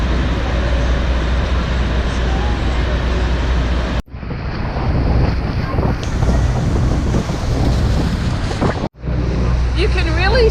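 Strong, steady wind buffeting the microphone on a boat near the base of Niagara Falls, over a low roar of rushing water, loud and continuous with brief dropouts.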